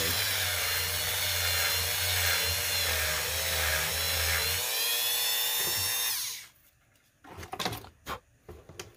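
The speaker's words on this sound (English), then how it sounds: "I'm going to take this Dremel bit. It's just a little circular saw." A Dremel rotary tool with a small circular saw bit routes out the inside of a plastic action figure limb, a loud steady high whine for about six seconds before cutting off, followed by a few faint handling knocks.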